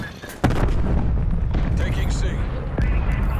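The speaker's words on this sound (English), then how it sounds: "Hostile artillery targeting Alpha. Artillery inbound." Artillery barrage in the shooter game Call of Duty Black Ops Cold War, a sudden loud blast followed by rumbling booms and distant impacts that carry on, with a voice calling out over the noise.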